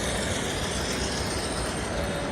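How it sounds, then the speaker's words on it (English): A model railway locomotive passes on an exhibition layout at a railway modelling festival, heard as a continuous dense rolling rumble and clatter blended with busy hall noise, steady throughout. "We do have one of the Cavalex locos passing through."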